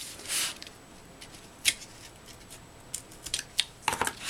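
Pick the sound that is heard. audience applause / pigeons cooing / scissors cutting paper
scissors cutting paper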